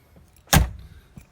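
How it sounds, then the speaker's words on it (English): A single solid thump of a restored Ford XE Falcon's door being shut close by, with faint rustles before and after. "it's funny shutting doors on a restored car"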